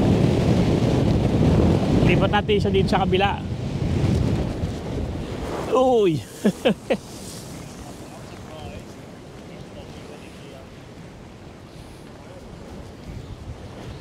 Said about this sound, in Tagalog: Malakas ang hangin, masyadong malakas.